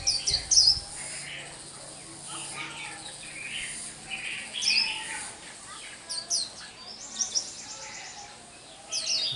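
A small songbird called liễu xù gives bright, high chirps and short twittering phrases in bursts, fairly close, against a steady background of insect buzz.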